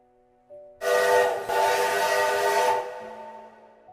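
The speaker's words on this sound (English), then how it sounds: "the steam whistle that had marked time in Centralia for 7 years" A loud steam whistle blasts a sustained, steady tone for about two seconds, then fades away, leaving a low hum behind.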